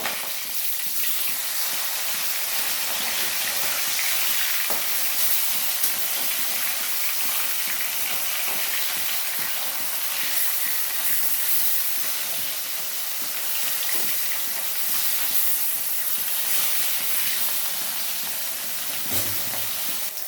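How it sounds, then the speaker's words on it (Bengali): Rohu fish pieces shallow-frying in hot oil in a pan, a dense, even sizzling hiss that runs steadily for about twenty seconds, close and fairly loud with no talk. "এবার মাছগুলো ভাজা আমার কমপ্লিট"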